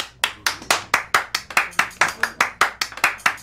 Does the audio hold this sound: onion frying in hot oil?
no